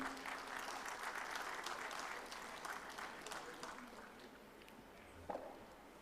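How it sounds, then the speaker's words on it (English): Audience applauding at a youth health consultation conference at AIIMS Rishikesh, steady clapping over about six seconds that gradually thins out, with a brief louder clap near the end. "Please have a huge round of applause."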